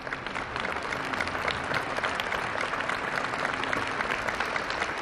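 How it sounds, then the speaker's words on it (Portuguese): A vast crowd in St. Peter's Square applauds Pope Leo XIV at his inauguration Mass, a broad, steady roar of distant clapping that rolls on evenly, heard open-air and somewhat far off. "E o aplauso de toda a Praça São Pedro a Leão XIV."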